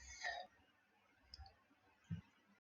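A computer mouse clicks on a save button, giving a few faint, sharp clicks spaced apart against near silence.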